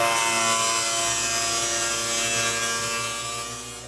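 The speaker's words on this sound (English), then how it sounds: "prep the surface of the belt using a grinder with light grit paper just to remove the skim coat of urethane or PVC from the underside of the belt" A grinder fitted with light grit paper sands the urethane or PVC skim coat off the underside of a conveyor belt, a loud, steady abrasive whir with a constant machine hum running throughout.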